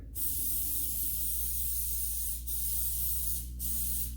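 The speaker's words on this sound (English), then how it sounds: "I'm going to spray them until they're clear." Olive oil is sprayed from a pump sprayer onto floured chicken wings before air frying, producing one long, close, steady hiss that pauses briefly twice and then resumes.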